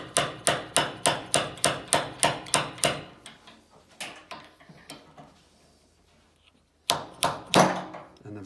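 A puller on a brass tuba valve rotor is tapped repeatedly in close, sharp metallic knocks. A quick even run of taps slows and fades, goes quiet, then a few more taps follow.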